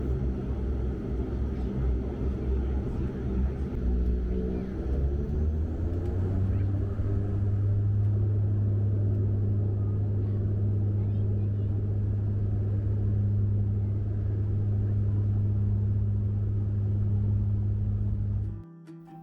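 Inside the cabin of a WestJet Encore Q400 turboprop delivered in 2015, a steady low engine drone and tonal hum fill the space in flight. The propeller pitch shifts partway through before holding constant, then the sound cuts off sharply at the end.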